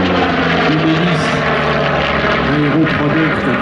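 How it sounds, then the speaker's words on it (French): A warbird aircraft with a twin-row radial engine and propeller drones loudly and steadily at an airshow, a dense throbbing roar with shifting pitch as it passes, continuous and close throughout. "un moteur en étoile double rangée,"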